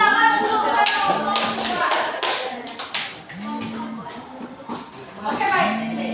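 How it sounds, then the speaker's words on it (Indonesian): A group of people clapping their hands together in a room, sharp overlapping claps in bursts mixed with talking voices and a few thumps. "Ya, tepuk tangan dulu."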